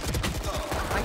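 Rapid gunfire from a tactical shooter match in Valorant, a quick rattling burst of repeated shots close up and fairly loud, filling the short moment without speech.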